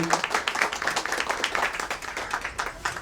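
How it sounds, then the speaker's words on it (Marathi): Audience clapping at an award ceremony for a World Disability Day event, a rhythmic patter of many hands at moderate volume that rises and falls across the few seconds. "टाळ्या वाजवायला पाहिजे।"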